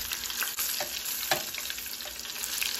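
Close, steady sizzling of an egg frying in hot oil while being basted, with soft clicks and scrapes of the spoon breaking through the hiss.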